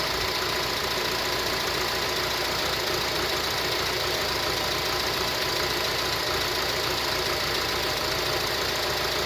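The engine of a 2007 Honda CR-V that has a stalling problem runs close up, a loud continuous rough mechanical hum with knocking texture, steady throughout with no talk.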